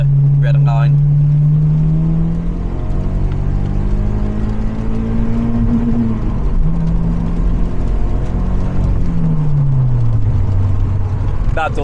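A modified Mazda MX-5 engine revs hard and climbs steadily in pitch in second gear to the red line, dips at a gear change, then climbs again, loud and close with a throaty exhaust note.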